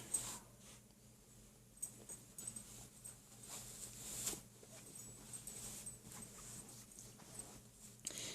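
A dog lying on the floor chewing on a blanket, with soft jangling of its tags, intermittent clicks and rustles close by at low volume.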